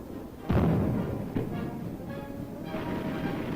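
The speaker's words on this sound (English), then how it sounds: "Recoilless rifles give the infantry artillery firepower." A recoilless rifle fires at an army demonstration, one loud deep boom followed by a second, smaller thud, with a rumbling tail left in the open air.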